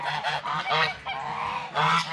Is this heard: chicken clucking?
yes